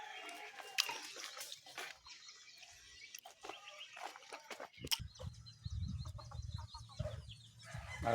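Chickens clucking in a small backyard chicken coop, scattered close clucks and calls over a quiet rural background, with one bird louder near the end.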